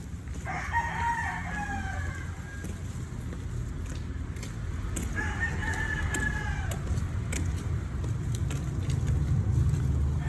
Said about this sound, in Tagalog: So, yung mga manok maghihintay na pagkain pero mamaya sila mga 7 ko sila pakainin.